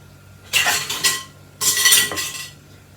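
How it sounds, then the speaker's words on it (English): A screw-top lid twisted onto a glass canning jar of apple pie filling in a home kitchen, two short scraping, clinking bursts of metal on glass, close and quiet. "Hold the jar and screw it in."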